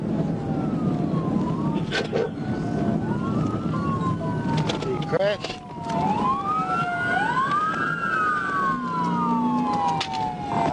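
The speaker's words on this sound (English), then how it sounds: "Yeah, I hear sirens." Several police sirens wail and yelp at once during a vehicle pursuit, their overlapping rising and falling tones over road noise, with a brief voice speaking.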